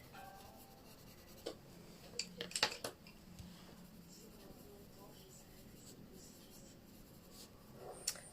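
A Prismacolor colored pencil moves over printer paper in quiet, scratchy strokes, with a few sharper taps and clicks scattered through, all faint and close.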